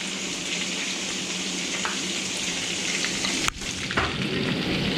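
Hamburger patties frying in butter in a pan, a steady close sizzle and crackle throughout with a brief scraping clatter of a utensil near the end.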